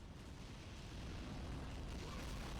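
A heavy mortar explodes in the Men of War: Assault Squad 2 strategy game, heard as a low, rumbling roar of blast noise that swells and sustains, fairly quiet and distant.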